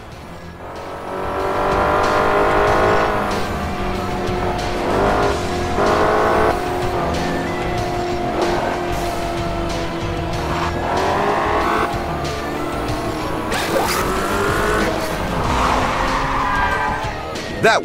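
A car in the Crash Time 5 video game drives at speed with a loud engine, and tires squeal and skid as it brakes hard, in a busy continuous mix.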